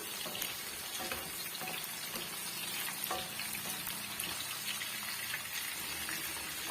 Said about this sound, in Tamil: இடையிடையே நல்லா வந்து மிக்ஸ் பண்ணி கொடுத்துக்குங்க அப்பதான் ஒரே ஈவனா நல்லா வதங்கி வரும்